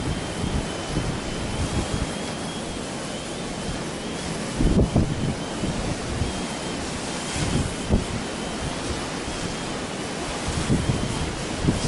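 High wind spilling turbulently off trees and other obstacles rushes and buffets steadily around a small, flexible-armed quadcopter holding position, a broad continuous roar with occasional sharper gusts and no speech.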